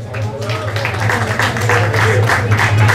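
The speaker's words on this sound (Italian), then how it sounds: "Applausi troppo timidi" Sparse, timid applause from a crowd at a slalom car race, a few scattered claps rising slightly over a steady low engine hum and background noise.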